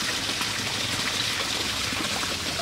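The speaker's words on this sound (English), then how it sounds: "And the little creek is flowing." A small backyard creek with a waterfall flows steadily, a continuous close trickling and splashing rush with no pauses.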